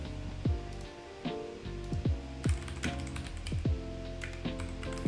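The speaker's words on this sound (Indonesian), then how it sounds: "Berarti di sini kita ketik promptnya sudo more." A computer keyboard types out a sudo more command in a log-file lab running under VMware: a quick, uneven run of close, crisp key clicks, with no voices.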